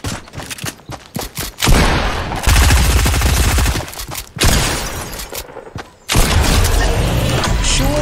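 Loud close gunfire in Fortnite Chapter 2, with sharp single shots followed by sustained rapid bursts and heavy booming volleys in separate waves across the stretch.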